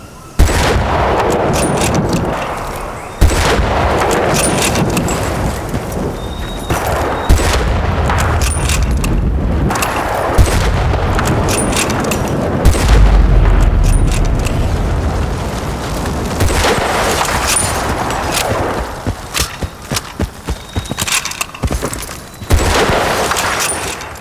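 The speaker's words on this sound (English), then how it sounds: "There's explosive barrels at your disposal, as well as crates or windows." Gunfire and exploding barrels in Battlefield: Bad Company 2, with a continuous run of shots and booming blasts over a rumbling game backdrop, loud throughout.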